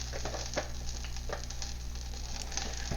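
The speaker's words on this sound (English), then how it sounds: "I'm going to add some oil for stir frying" Jumbo shrimp stir-frying in two tablespoons of hot oil, a steady close sizzle with crackling pops and occasional stirring scrapes throughout, no voices.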